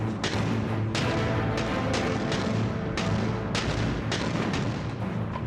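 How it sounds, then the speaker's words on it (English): Artillery barrage firing during the Soviet assault toward Berlin in April 1945: a rapid series of heavy booms and thuds, roughly one to two per second, over a continuous low rumble, distant and reverberant. "the biggest artillery barrage of the war commenced"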